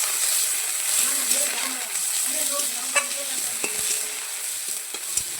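Ginger garlic paste frying in a pan, a loud continuous sizzle with scraping stirs and light utensil taps throughout.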